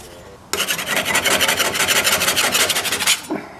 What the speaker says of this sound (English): But first, we will give just the putty knife our best efforts.